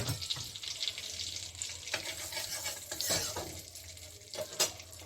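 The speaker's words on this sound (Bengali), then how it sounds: "গরম তেলের মধ্যে আমি অল্প হলুদ দিয়ে দিচ্ছি" Turmeric dropped into hot oil gives a soft, continuous frying hiss with occasional stirring scrapes and light clinks of a utensil on the pan.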